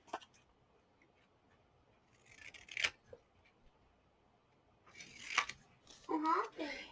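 Scissors cut paper layers for a 3D shadow box card, making a few quiet snips and a couple of louder cuts near the end over a faint background, with a voice speaking softly.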